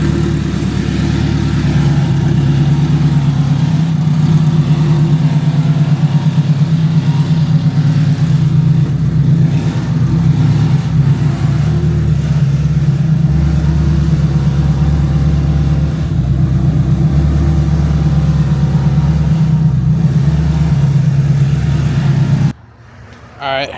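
A 1000 HP all-wheel drive Honda Civic engine running loud and close, a heavy steady drone with revving that holds for over twenty seconds before cutting off abruptly.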